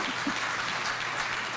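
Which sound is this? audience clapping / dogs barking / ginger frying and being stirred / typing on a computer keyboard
audience clapping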